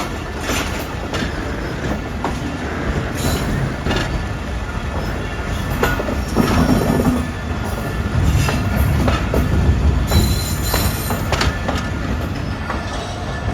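Millat Express passenger train rolling through a station area on a journey from Lalamusa toward Karachi, with steady wheel rumble, rhythmic clickety-clack over rail joints and brief wheel squeals, heard loud from inside the carriage.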